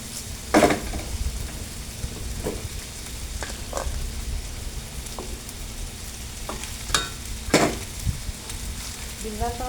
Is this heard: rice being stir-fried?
yes